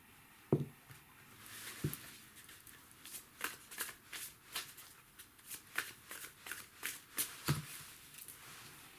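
Tarot angel cards are shuffled in quick, papery riffles and flicks, close up and fairly quiet, with a few sharper taps between the bursts and no speech.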